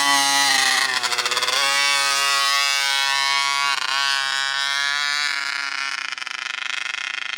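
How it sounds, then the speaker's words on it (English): RCMAX 80cc gas engine on an RC monster truck revving under throttle, a loud, buzzy high-pitched two-stroke whine that climbs and wavers as the throttle is pushed, close and continuous. "Easing into the throttle. Half throttle. Full throttle."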